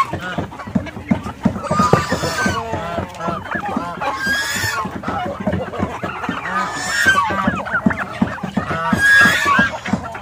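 Native chickens kept on a farm alongside turkeys cluck and call close by in a busy, overlapping chorus, with a few sharper cries rising above the steady clucking.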